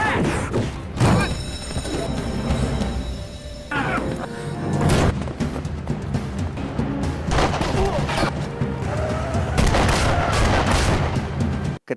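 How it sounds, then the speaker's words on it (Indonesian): A film scene of a prison escape plays several sharp gunshot bursts spread across the clip, with a character being shot in the leg. The shots are mixed with a dense soundtrack and voices. "kaki Burau sedang terluka akibat terkena tembakan"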